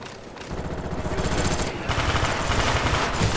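Rapid pellet-gun fire in Call of Duty: Black Ops, a loud, dense stream of shots that starts after a brief lull and runs almost continuously, briefly dipping before resuming.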